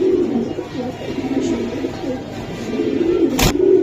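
A racing pigeon coos in low, repeated throaty phrases close by, ending in a brief sharp knock near the end.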